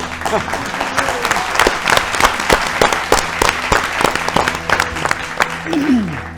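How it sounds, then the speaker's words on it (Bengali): A televised agricultural quiz show where the studio audience breaks into sustained applause with sharp individual claps standing out, close and lively, while a voice talks briefly near the end. "হাততালি তো পেয়ে গেলাম, আমি নিজেও হাততালি দিলাম আপনাদেরকে উৎসাহিত করার জন্য"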